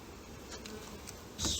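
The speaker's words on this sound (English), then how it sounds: "can brush these little bees off of the ball of wax I got" Honey bees buzz around an opened beehive in a low, steady hum close by, swelling louder near the end.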